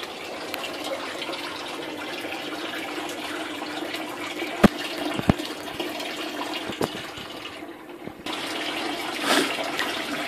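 An automatic bell siphon kit drains water in a continuous rushing flow, with a few sharp clunks partway through and then a fuller, louder gush toward the end, heard alone without talk.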